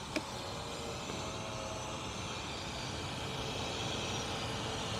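A drone flies nearby with a steady, broad whirring hum of small propellers that holds level throughout and swells slightly toward the end, with no talking.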